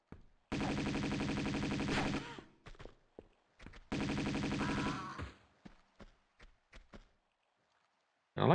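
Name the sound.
Uzi gunfire in Tomb Raider 2 Remastered video game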